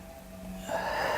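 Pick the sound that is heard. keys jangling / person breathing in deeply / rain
person breathing in deeply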